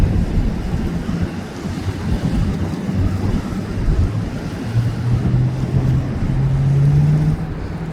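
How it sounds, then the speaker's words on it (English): Waves on the East River in New York City, a steady broadband wash of water and wind noise with a low engine-like hum, continuous and fairly loud, no talking. "Look at the waves in the river."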